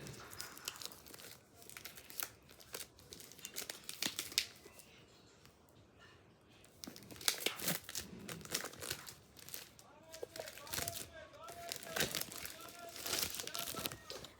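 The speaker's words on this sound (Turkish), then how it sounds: "bir tane kutu var da açmaya çalışıyorum." Cardboard and plastic packaging of a Diansheng 8x8 puzzle cube box being opened by hand, with intermittent crinkling, tearing and rustling bursts close to the microphone, broken by a short quiet pause partway through.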